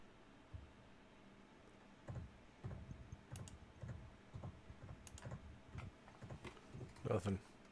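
Computer mouse clicking during an online virtual meetup, heard as scattered small, quiet ticks over a faint noisy background, with muffled voices talking now and then.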